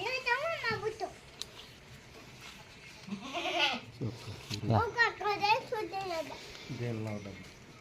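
Goats bleat several times in wavering cries close by at a livestock market, mixed with people talking, including a voice.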